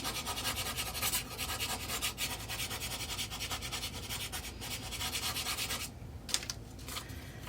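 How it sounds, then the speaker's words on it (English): A small wooden circle rubbed steadily across paper on a foam dice surface to transfer an image, giving a continuous dry scratchy rasp that briefly pauses near the end. "I've actually got a little wooden circle laying right here that I'm going to use, and just rub across it"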